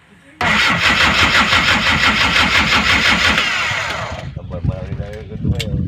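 A small boat engine cranks with a freshly installed starter and fires into a loud, rapid, rhythmic chugging that fades near the end, with voices talking over it.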